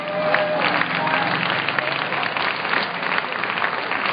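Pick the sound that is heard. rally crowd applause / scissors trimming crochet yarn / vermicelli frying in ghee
rally crowd applause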